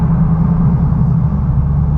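Deep, steady rumble from a supercharged 1,000 horsepower purple Dodge Challenger Hellcat with a Roots blower, heard from inside the car as a loud, continuous low drone with no voices.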